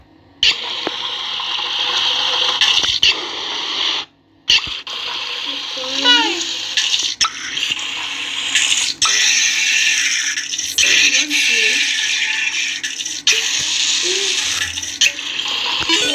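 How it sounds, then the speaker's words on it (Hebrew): Tap water runs steadily from a faucet as a continuous hiss throughout, briefly cut off once, with occasional knocks and faint game sounds over it. "בשבילי רק מים מהברז,"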